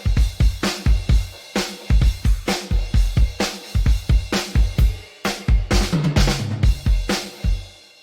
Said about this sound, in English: let's have a listen to the drums alone first.